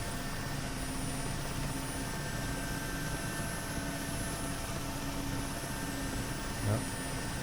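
An Mi helicopter's turbines and rotor hum as a steady, droning whine while it taxis on the ground in the DCS flight simulator, constant and unbroken with no voices.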